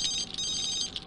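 A telephone rings in the video game The Sims 3 with a continuous electronic trilling tone that pulses slightly and holds steady and fairly loud, with no talking.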